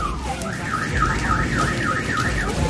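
A car alarm wails in a fast rising-and-falling pattern over a constant roar of wind and rain during a night storm, with several cars' alarms going off.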